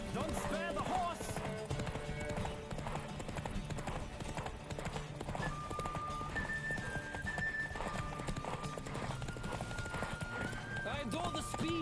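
A galloping horse in The Witcher 3 drums out continuous quick hoofbeats for several seconds, with a neigh breaking through, all under game music and a player chattering excitedly.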